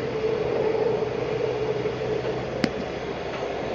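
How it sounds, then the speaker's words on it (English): A BART train pulls into a San Francisco station platform, a steady, fairly loud rumbling roar with a faint low hum and one brief sharp click partway through. "Five cars, San Francisco, AM City train, now approaching platform 2."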